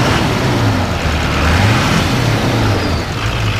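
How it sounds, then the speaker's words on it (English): A 2002 GMC Duramax 2500HD diesel truck engine revving, a loud, rough low rumble that swells and settles across a few seconds, heard close with no talk. "go ahead and rev it up a little bit."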